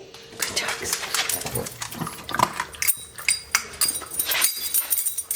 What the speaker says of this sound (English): You can hear my dogs over there tearing up their food.